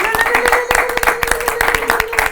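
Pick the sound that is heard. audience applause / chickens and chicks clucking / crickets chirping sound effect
audience applause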